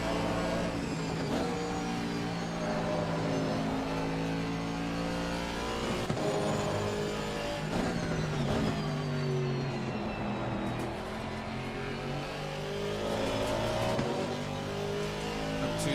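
Aston Martin AMR V8 race car lapping the Kyalami circuit in Assetto Corsa Competizione, with a continuous engine drone that rises and falls through gear changes, steady and close with no talk.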